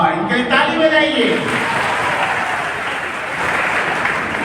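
An audience at a Ramayan katha religious gathering claps loudly in a sustained, dense burst of applause that follows someone speaking at the start.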